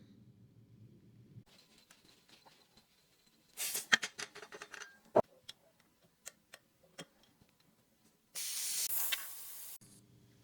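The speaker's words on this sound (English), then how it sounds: "So now we're going to empty the rifle and screw the second regulator back in." An FX Maverick air rifle being emptied of air: a sharp hiss burst, then scattered ticks and clicks of handling, and a second sustained loud hiss of escaping air about a second long near the end.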